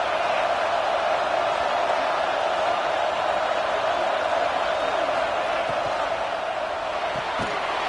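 A stadium crowd roars continuously in College Football 26, Alabama playing at Oklahoma, a dense steady wall of cheering and noise from a large distant audience that holds throughout with little variation.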